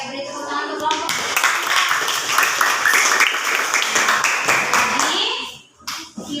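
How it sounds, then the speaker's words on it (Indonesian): An elementary school class bursts into lively applause, many small hands clapping together for several seconds before it quickly dies away, with children's voices mixed in. "beri tepuk tangan untuk kelompok"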